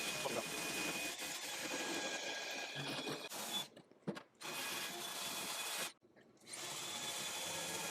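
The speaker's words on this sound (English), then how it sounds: "playing with the wire wheel did a little good cleanup" A wire wheel brush on a power tool whirs steadily with a harsh scraping brush while cleaning an old Craftsman toolbox, stopping briefly twice before starting again, close and loud.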